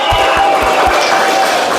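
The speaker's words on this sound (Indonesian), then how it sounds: "Tepuk tangan buat masing-masing kelompok." A classroom of students applauds the presenting groups, a dense, loud wash of clapping and crowd noise with a few heavier thumps throughout.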